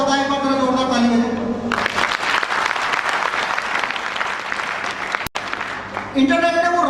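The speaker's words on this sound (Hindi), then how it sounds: "जितने लोगों को पता है एक बार जरा जोरदार ताली बजाएं।" An audience at a product launch event breaks into loud applause that swells and holds for several seconds, framed by someone speaking to the crowd before and after.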